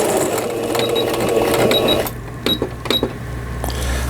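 A Singer 5400 sewing machine runs a circular-pattern stitch, loud and close with a fast mechanical chatter, then slows to a few separate clicks and thumps before humming again.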